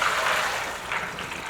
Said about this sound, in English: I'm gonna drain and rinse these ones.